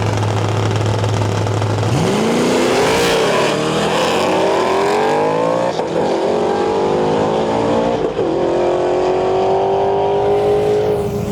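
A Pontiac GTA Trans Am and a Mustang Mach 1 launching in a drag race, loud engines idling and then roaring up through rising revs and gear changes, close and sustained.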